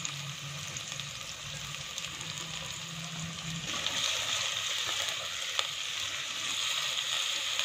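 Chopped onions sizzle steadily in a hot pan of oil while cooking tinda gosht, a constant close crackling hiss that grows a little louder partway through, with no talk.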